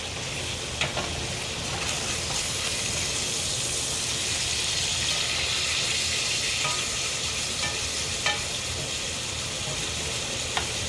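Burger patties sizzle in hot grease in a frying pan, a steady close crackling hiss lasting throughout with a few sharper pops, no talking.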